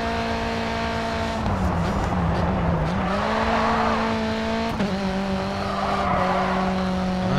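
A race car in the racing game Grid 2 skids off the track, its loud, steady engine drone joined by long tire squeals that swell and bend in pitch, with no voices.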